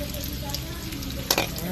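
Garlic and onion sautéing in a pan, a soft steady sizzle with faint stirring and a brief clatter near the end, no talking.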